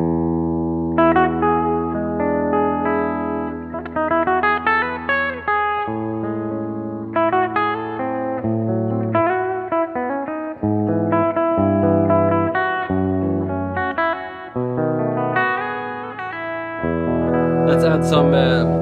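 An Epiphone SG G-400 electric guitar on its bridge pickup alone plays a clean, bright run of notes and chords with a touch of reverb, steady and close throughout.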